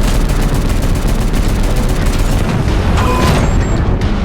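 Sniper gunfire in the video game Robocop: Rogue City, Unfinished Business: a loud, dense barrage of booming shots and blasts that runs continuously with no pause.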